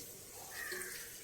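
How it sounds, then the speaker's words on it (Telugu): Water poured into a pan of cucumber pieces cooking for curry, a short faint splashing gush lasting about a second, close and alone. "ఇప్పుడు కొంచెం వాటర్ పోసుకుందామండి"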